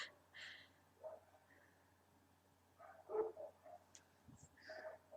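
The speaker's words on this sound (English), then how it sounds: "It's a long time for the dogs to be barking." Neighbour's dogs bark a few times in the distance, with faint, scattered barks separated by long quiet gaps.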